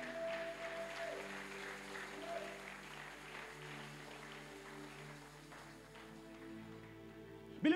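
A church congregation applauds, a steady, fairly faint patter of clapping that runs throughout under a held organ or keyboard tone, ending with a brief louder burst.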